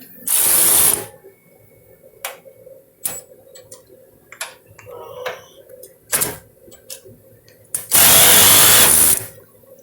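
A cordless impact wrench removing bolts on a Dodge Neon during body panel work fires in two loud, sustained hammering bursts at the start and end, with sharp clicks and clanks of tools between.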